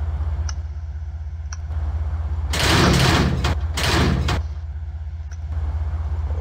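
An Amfleet railcar door and its trap mechanism running in manual mode: two loud sliding and mechanical bursts, each about a second long, over a steady low hum, with a few faint clicks before and after.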